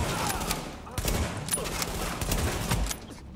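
Rapid bursts of automatic gunfire from a firefight in the video game The Division, with several sharp volleys over about three seconds under a player's voice.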